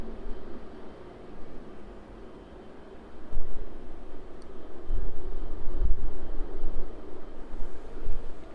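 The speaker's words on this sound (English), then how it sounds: "The Ryanair turning on to final now." A Ryanair airliner on final approach at East Midlands Airport gives a distant, low broadband roar that swells gradually and holds at moderate level, with no voices.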